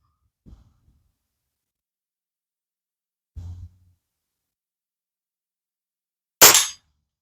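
A long Hatsan air rifle fires pellets at a target: a faint tap, then a dull low thump, then a sharp, loud crack that rings briefly, each isolated by silence.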